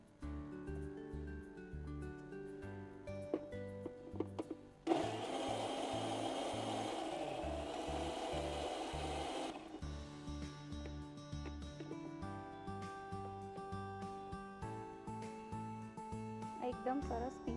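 A mixer grinder whirs loudly for about five seconds, grinding mango chutney with jaggery and a splash of water, then stops, all over continuous background music.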